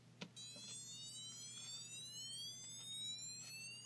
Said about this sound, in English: Here's another one with a siren.